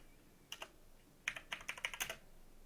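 Bursts of computer keyboard typing as C++ code is entered for a temperature conversion program, a short pair of keystrokes then a rapid run of close, crisp clicks with no talk.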